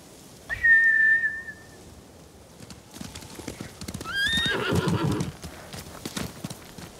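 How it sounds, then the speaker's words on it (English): A samurai horse in the video game Ghost of Tsushima lets out one sharp whinny, followed by clattering hoofbeats and another high, wavering equine cry, all close and clear against quiet ambience. "Bastards scared off the horses."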